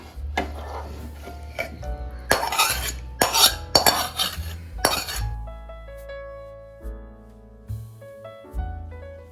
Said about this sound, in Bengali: আমার চিলি চিকেনটা রেডি হয়ে গেছে। এবার আমি একটু ঢেলে নেবো এটা।